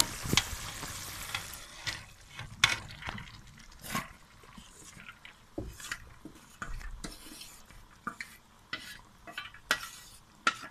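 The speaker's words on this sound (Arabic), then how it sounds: "نقلبها بقى كده في التسبيكة دي" A spoon stirs thick, spicy chili sauce for spaghetti in a pan, making scattered scraping knocks and clinks against the metal over a faint low sizzle, with no talking.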